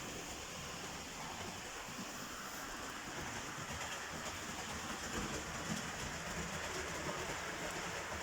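Continuous low rumble and whir of a Hornby APT model train running along its track, steady and fairly quiet, with no speech.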